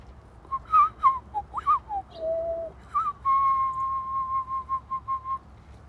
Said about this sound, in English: Now we're going to see the swarming of birds.